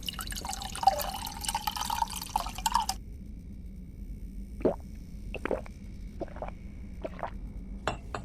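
Water poured into a glass for someone to drink, with a short run of bright liquid pouring and plopping followed by scattered drips and small clinks in a quiet room.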